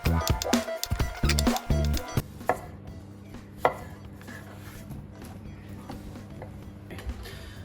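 A knife chops through potatoes on a board in a quick burst of close, loud thuds, followed by quieter clicks and clatter of kitchen handling.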